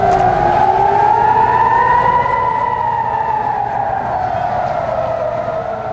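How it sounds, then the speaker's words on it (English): Air raid sirens in Tel Aviv during rocket fire from Gaza, a loud wail rising and falling in long, slow sweeps, steady and continuous with no voices. "Air raid sirens heard yet again today in Tel Aviv,"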